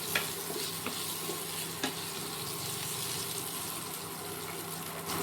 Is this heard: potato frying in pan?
yes